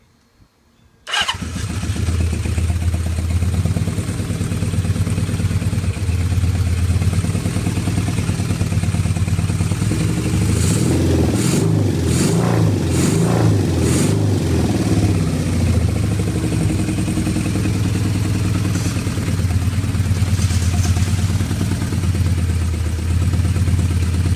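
A Honda CB550 motorcycle with freshly worked carburetors fires up after a moment of quiet, then idles loud and close with a rough, throbbing rumble, the revs rising and wavering midway before settling back.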